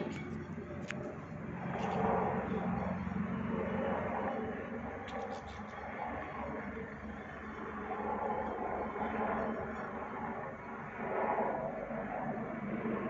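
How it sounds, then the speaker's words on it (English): Helicopter passing overhead at night above suburban Cairns, flying without navigation lights, heard as a steady low rotor and engine rumble that swells and fades slightly, with faint talk over it. "Since when can choppers fly with no nav lights,"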